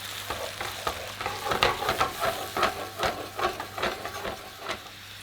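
White Chardonnay wine poured into a hot pan with leftover lamb fat, deglazing and bubbling in a steady close sizzle with stirring and scraping pulses, no voices.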